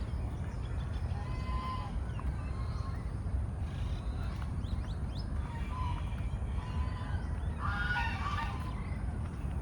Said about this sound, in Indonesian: Ada suang.